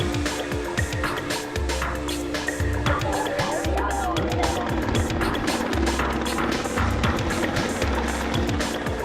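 Helicopter flying close by, a steady loud rotor roar with rapid blade chop filling the whole stretch, while low rumbling layers pulse underneath.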